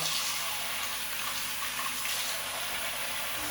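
Hot soapy water pours steadily from a tap into a sink, a continuous close hiss and splash with no talk.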